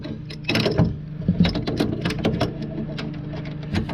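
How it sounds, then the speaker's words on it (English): Ratchet clicking in quick, uneven bursts while tightening the brake light switches on the master cylinder of a VW Beetle, close and fairly loud, with no talking. "let's get the ratchet and tighten these up"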